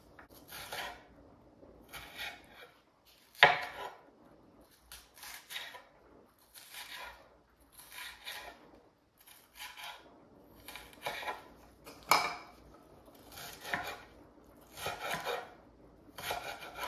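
A knife chops onion on a cutting board in steady rhythmic strokes, close and fairly quiet, with no talking.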